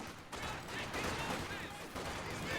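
Sustained MG42 machine gun fire in a competitive World War II shooter match, a dense, continuous rattle of rapid shots that runs loud for the whole stretch with a brief dip near the start.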